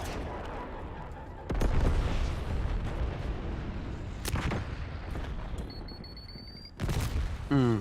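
A napalm strike in Black Ops 6 sets off heavy booms and rumbling blasts amid scattered gunfire, with several loud impacts spaced a few seconds apart over a continuous battlefield roar.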